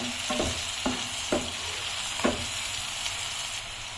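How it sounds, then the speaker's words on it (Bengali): Onion frying in a pan with a little turmeric and green chili, a steady close sizzle broken by a few sharp scraping stirs of a spatula, no talk. "পেঁয়াজটা ভাজা হয়ে গেছে"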